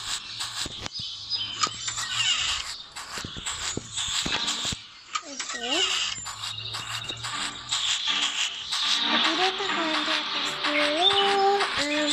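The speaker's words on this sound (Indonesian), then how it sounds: "Ini burung kok dari luar aja." Birds call from outdoors in a busy setting, with repeated chirps and whistled notes rising over steady insect-like buzzing, shuffling and scattered voices nearby.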